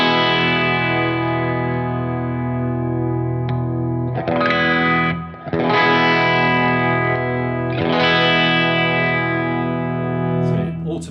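PRS SE Custom electric guitar played with its coil split, sustained overdriven chords with chorus and reverb, a few fresh strums ringing out, close and loud.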